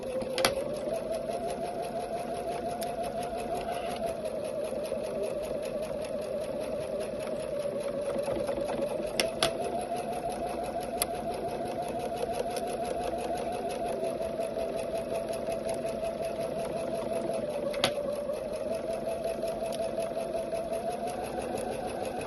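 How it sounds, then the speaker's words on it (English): A sewing machine stitches a quilt star block in a steady, continuous whir with a rapid needle rhythm, close and even throughout, with a few brief pauses and clicks. "Never sew over your pins. That is one way to upset your machine so fast."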